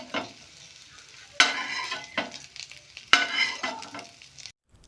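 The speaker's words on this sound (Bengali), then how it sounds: "ডিমগুলোকে ঠিক এই রকমভাবে ফ্রাই করে নিতে হবে।" Eggs frying in butter on a tawa for street-style egg chaat crackle and sizzle close up, with sharp bursts of spatter and scraping stirs recurring every second or so, then cutting out abruptly.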